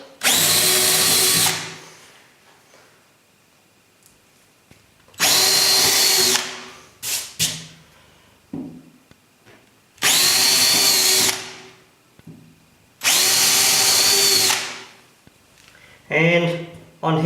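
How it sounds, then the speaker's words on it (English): Four separate bursts of a close power drill boring holes for dropper wires on a model railway layout, each lasting one to two seconds with quiet gaps and a few clicks and bumps between them. "Okay, I'm going to drill the 2 holes"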